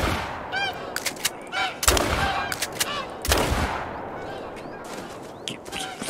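Gunshots from goose hunting in the video game The Hunter: Call of the Wild: several sharp, loud reports at irregular intervals, with faint honking goose calls between them.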